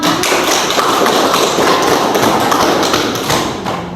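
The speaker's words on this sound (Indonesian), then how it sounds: "Silakan aplaus dulu untuk kelompok 1." A classroom group gives a loud, sustained round of clapping for the first group, dense and continuous for about four seconds before easing slightly at the end.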